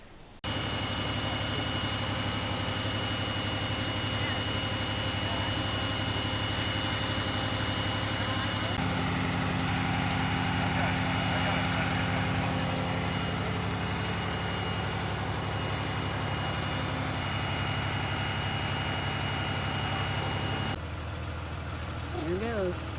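A vehicle idles with a steady low rumble while it pulls a trailer out at Walnut Woods State Park, the engine note shifting partway through; people talk quietly over it, and a brief higher sound comes near the end.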